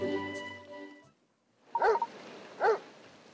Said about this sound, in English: It's a dog barking, isn't it?